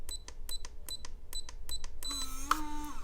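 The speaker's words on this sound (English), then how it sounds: "if you don't want those beeping sounds" A gun safe's keypad emits a series of short, evenly spaced electronic beeps, six in a row, crisp and close, followed by a longer tone as a voice speaks.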